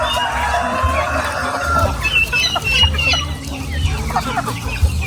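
Free-range chickens fenced in with hog wire and netting cluck steadily and overlap one another, nearby and moderately loud, over a continuous outdoor background.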